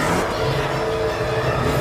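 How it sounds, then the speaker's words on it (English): A car engine revs hard and steadily throughout a radio drama chase with an overheating engine, loud, close and continuous with a strained whirring roar. "I need to slow down, the engine's overheating!"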